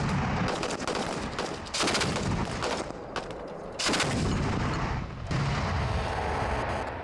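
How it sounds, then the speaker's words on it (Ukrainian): Repeated gunfire at a military shooting range, where air-defense troops fire weapons including a 23-mm gun; loud bursts and sustained volleys come in several clusters with short gaps between them. "Звуки пострілів не вщухають на військовому стрільбищі."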